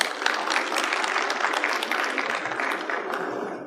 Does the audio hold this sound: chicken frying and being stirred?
no